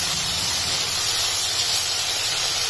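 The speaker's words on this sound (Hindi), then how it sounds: "अब हम डाल देंगे इसमें कटा टमाटर, इसको भी थोड़ा सॉफ्ट होने तक हमें भूनना है।" Chopped tomatoes sautéing in a hot pan for a Hyderabadi broccoli gravy, giving a steady, close, even hiss of frying with no talking.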